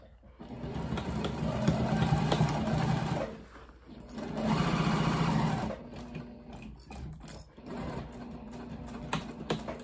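A domestic sewing machine stitches across a zipper on a tall tote bag. Two long, steady runs of close, whirring stitching are broken by a short pause, with a softer stretch of machine hum near the end.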